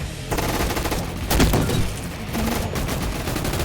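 Shotgun gunfire in the video game Roblox Gun Fight Arena: a rapid dense volley of sharp shots in the first half, then more blasts, loud and close with no talk.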